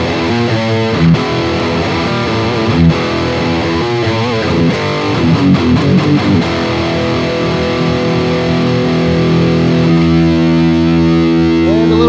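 A crunchy, overdriven Gibson Explorer electric guitar runs through a Boss GT1000, with loud distorted chords and palm-muted riffs played up close, ending in a sustained ringing chord.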